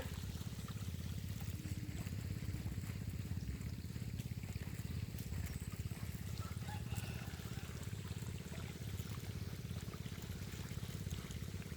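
Water pumped into a flooded rice paddy gives a steady, continuous rushing and gurgling with a constant low mechanical drone underneath, unbroken and moderately distant, with no talk.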